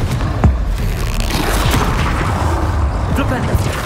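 Confringo explosive spell blasts in the game Hogwarts Legacy: loud, continuous booming and crackling bursts of combat noise with a voice speaking over the din.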